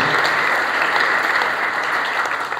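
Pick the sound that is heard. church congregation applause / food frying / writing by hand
church congregation applause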